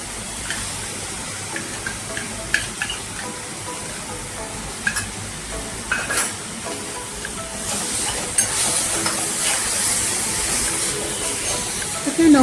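Onion-coconut paste and coarse chili masala sizzling in a pan, a steady soft frying hiss with small crackles and pops that swells louder toward the end, under someone talking.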